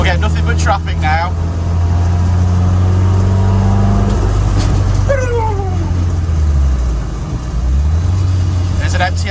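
Road traffic rumbles steadily around a car driving out onto a busy road, with a low engine drone throughout and a passing vehicle sweeping by midway, while people talk over it.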